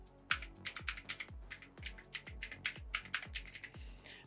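Keys on a computer keyboard are tapped out for a cheat code in a steady, close run of crisp clicks and clacks, quiet and alone with no talking.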